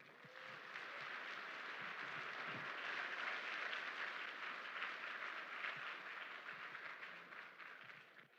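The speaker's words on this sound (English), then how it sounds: "please join me in a round of applause for all the veterans in attendance today" Audience applause for veterans at an Army AIT graduation ceremony at Fort Sill, a sustained wash of many hands clapping that fills a large hall, steady and fairly distant.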